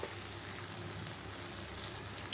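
Spice paste sizzles in hot oil, a dense, even hiss and crackle that holds steady throughout, close and fairly quiet with no talking.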